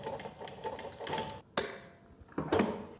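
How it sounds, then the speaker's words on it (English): An industrial walking foot sewing machine, Model 1903SX, sews in reverse, giving a close, rapid mechanical stitching whir with a brief pause and sharp click midway. "you just press this little button up here and it'll reverse, giving you the same size stitches"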